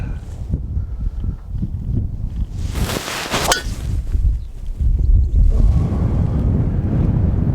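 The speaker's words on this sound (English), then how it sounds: "completely forgot about the wind" Strong wind buffets the microphone on an open golf course fairway, a loud continuous rushing roar with a brief sharper gust in the middle, no speech.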